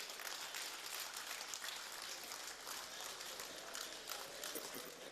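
Sustained applause from an audience at a national dialogue on corruption in Nigeria, a dense, even wash of clapping held steady at moderate distance throughout with no speech over it.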